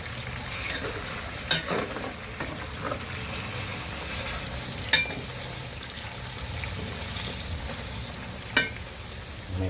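Pork lung adobo frying in a pan, stirred with a utensil: a steady sizzle with periodic scraping and sharp knocks against the pan, close up and alone.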